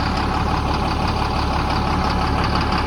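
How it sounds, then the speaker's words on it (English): A tractor engine runs steadily in a steady idle, a continuous mid-to-low rumble that stays loud and even throughout, with no voices over it. "It's gonna be nice to have this tractor finally running."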